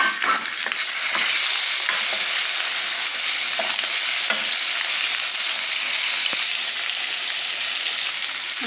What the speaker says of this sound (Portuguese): Enquanto o nosso fígado vai dourando